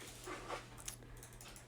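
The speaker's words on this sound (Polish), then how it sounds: "te psy moje, ale no ktoś przyszedł, ja mam dwa psy w domu" Two pet dogs at home panting and shuffling nearby, with a brief sharp yelp-like sound partway through, steady room noise underneath and no talking.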